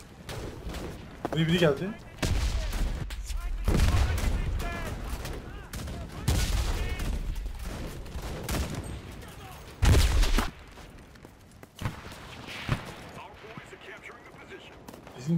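Kar98k bolt-action rifle fire in the WW2 shooter Enlisted, with several sharp shots and bursts of battlefield gunfire spread irregularly across the scene, loud and close, while someone speaks briefly between the shots.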